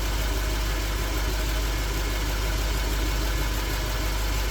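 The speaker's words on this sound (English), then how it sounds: "you need to do this while the vehicle is running" A Lexus LS430 engine idles steadily while parked and running for a transmission fluid drain and fill, giving a continuous, even low rumble with no talk.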